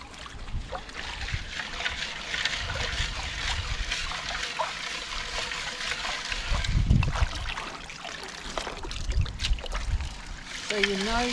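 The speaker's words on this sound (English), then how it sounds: "You wouldn't have to do that, with the water swirling around like that." Water sloshes and swirls in a gold pan during gold panning, with continuous trickling and splashing close by and a person talking over the water.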